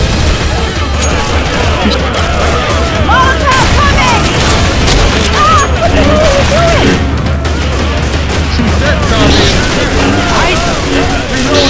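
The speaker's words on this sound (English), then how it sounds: "I'll try this rifle." Rifle gunfire in Left 4 Dead 2, dense and continuous booming shots mixed with game chaos and shouting voices throughout, loud and close.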